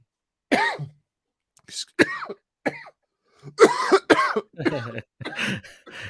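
A man has a coughing fit after swallowing an energy drink the wrong way. There are bursts of harsh, close coughs and throat clearing, with short pauses between them.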